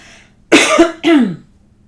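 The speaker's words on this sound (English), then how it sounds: "I feel like I have to cough." Two loud, close coughs in quick succession, harsh and breathy, with quiet before and after.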